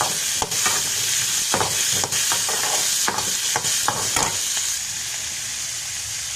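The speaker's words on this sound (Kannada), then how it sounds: "ಮುಲ್ಲಂಗಿಯಲ್ಲಿರುವಂತಹ ಹಸಿ ವಾಸನೆ ಹೋಗೋ ತನಕ ಸ್ವಲ್ಪ ಫ್ರೈ ಮಾಡಿರಿ" Grated radish fried in a pan for chutney, a steady, fairly loud sizzle broken by a series of sharp scrapes and taps from a spoon stirring against the pan, easing slightly near the end.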